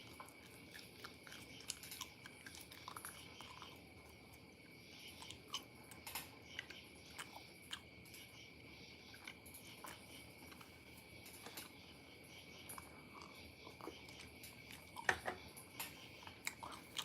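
Bubble gum being chewed close up during a late-night indoor camp in Tokyo, with soft wet smacking and crunchy bites repeating steadily over quiet background hiss, with one sharper snap near the end.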